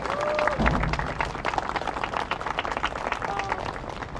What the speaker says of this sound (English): Let's give a round of applause just for you guys